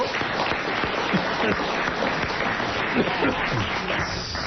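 Studio audience applause on a French comedy panel show, a continuous close wash of clapping hands with some scattered vocal noise, steady throughout.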